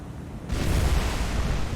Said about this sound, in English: Another secondary explosion, this one right at the back of the ship